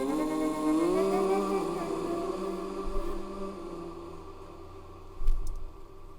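High-pitched layered vocal effect in a music production session, a sustained airy tone that glides upward and then holds, fading gradually as it drifts back and forth, with no talking over it.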